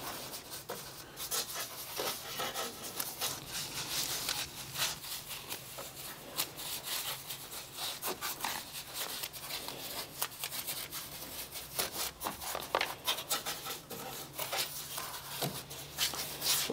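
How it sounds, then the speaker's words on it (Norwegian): A small brush scrubs a car engine bay coated with Rupes APC cleaner, a continuous close, bristly rubbing and scratching with repeated short strokes at moderate volume. "bruker vi en liten kost. Hjelper vi til litt og løser litt."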